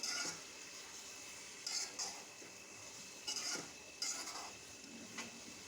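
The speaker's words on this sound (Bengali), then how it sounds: "গুড় দিয়ে ভালো করে নেড়ে চেড়ে মিশিয়ে নিচ্ছি আমের সাথে" A spoon stirs raw mango pickle with jaggery in a pan, giving soft, faint scraping and a few intermittent clinks against the vessel at an unhurried pace.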